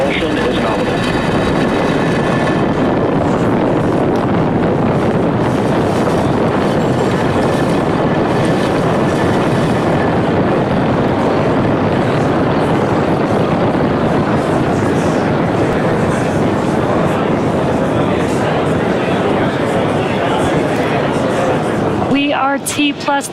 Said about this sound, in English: Engines full power. And liftoff of Transporter 8.